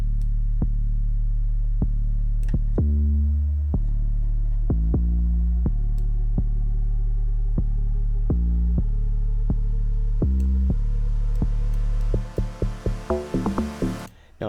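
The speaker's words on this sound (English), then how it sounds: "I believe, an 808, and this is how it sounds." Deep 808 bass notes in a gqom beat thump in a syncopated pattern under sharp clicks, sliding down in pitch and closing with a rapid stuttering roll.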